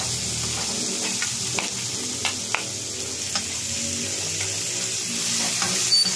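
Chopped onion sizzles in hot oil in a pan while cooking puque, a steady close-up crackle broken by sharp stirring clicks and pops, with no voices.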